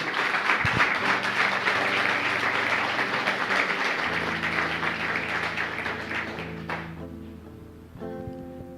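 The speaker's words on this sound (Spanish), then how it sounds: "Den un fuerte aplauso al Señor" A church congregation breaks into loud, sustained applause, dense clapping filling the room for several seconds, with a low organ or keyboard chord droning underneath before the clapping thins out near the end.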